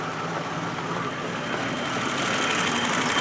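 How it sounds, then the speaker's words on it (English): Straight-six BMW M30 engine running in a 1982 BMW 633CSi, a steady continuous hum at moderate, constant level throughout, sounding close by with no talk over it. "here's that M30 engine, working very beautifully"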